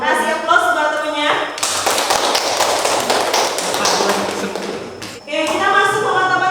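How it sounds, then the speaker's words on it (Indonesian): Audience of students and teacher in a classroom applauding presenting classmates, a dense burst of clapping lasting several seconds, with voices just before and after. "Kasih aplaus buat temennya."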